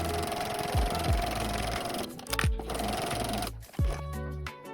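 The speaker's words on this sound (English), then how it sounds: "Now sew a top stitch along both long sides." A sewing machine top-stitches fabric for a puffy keychain bow with a steady motor whir and rapid needle chatter, close by, broken by a few short stops and restarts.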